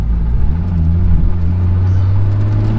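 A widebody Toyota Supra with a TO4Z turbo making about 550 hp pulls hard in second gear, its engine a loud, steady low drone building close by throughout.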